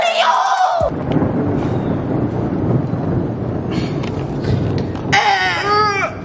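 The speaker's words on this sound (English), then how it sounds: "there's a lightning storm" Heavy rumbling thunder from a video game lightning storm rolls continuously under a storm's roar, with brief high-pitched vocal sounds at the start and end.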